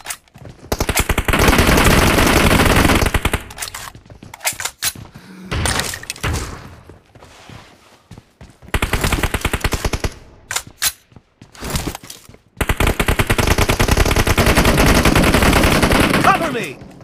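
Loud bursts of rapid automatic gunfire, several long rattling volleys broken by short pauses and scattered single shots.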